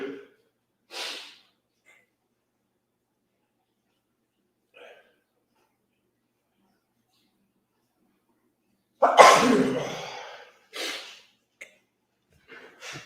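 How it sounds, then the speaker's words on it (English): A single sharp, loud sneeze bursts out after a long quiet stretch, followed by a few short breathy sounds and bits of speech. "I'm going to sneeze."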